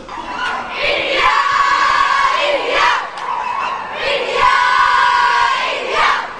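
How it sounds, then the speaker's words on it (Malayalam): A large crowd at Mumbai airport cheers and chants in loud rhythmic waves to welcome the runner-up Indian women's cricket team home from the World Cup at dawn, the shouts rising and falling in repeated swells. "പുലർച്ചെ മുംബൈ വിമാനത്താവളത്തിൽ പറന്നിറങ്ങിയ വനിതാ ടീമംഗങ്ങൾ അത്ഭുതത്തോടെയാണ് ആരവങ്ങളെ നോക്കിക്കണ്ടത്"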